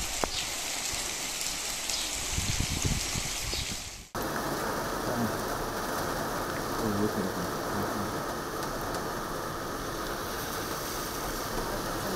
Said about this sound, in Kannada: ಇವತ್ತೀಗ ಬೆಳಗಿಂದಲೇ ಮಳೆ, ರಾತ್ರಿ ಇಡೀ ಮಳೆ ಇತ್ತು